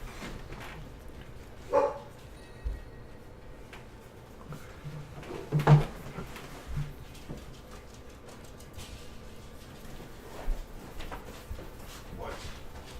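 Dogs in the Diablo 3 video game let out a couple of short, sharp barks, one near the start and a louder one midway, over a steady low game ambience.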